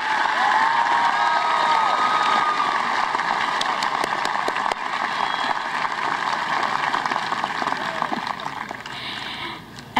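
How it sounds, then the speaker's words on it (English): Sustained applause and cheering from a large crowd honoring graduates at a high school graduation ceremony, a steady dense roar of clapping lasting throughout before tapering slightly at the end. "May we have another round of applause for our honor graduates."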